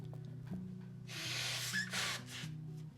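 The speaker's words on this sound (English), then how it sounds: "Let me blow my nose." A person blows their nose, two forceful breathy bursts close up over a steady low hum.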